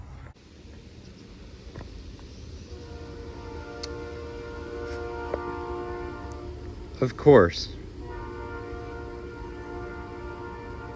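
A train rolls by nearby with a hum and a steady tonal rumble, then a loud horn blast sounds up close, set against a garage where a Geo Metro is under repair; someone speaks briefly.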